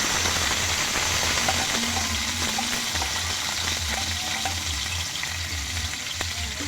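Squid adobo frying in a pan as more ingredients go in, a steady loud sizzle with watery crackle and faint stirring throughout, no voices.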